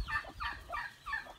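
Turkeys gobble in a quick rapid burst, four warbling calls in close succession, fairly faint.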